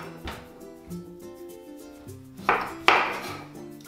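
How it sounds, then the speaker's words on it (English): A knife slices the ends off a delicata squash on a board, making two sharp, close thunks near the end after a few faint earlier taps, over quiet background music. "Taking your squash, you want to slice off both ends."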